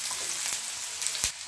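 Onions frying in oil in a pan for a paneer gravy, a close, continuous sizzle with a couple of sharper pops or utensil taps, no voices.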